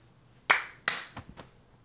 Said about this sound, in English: I like the clap.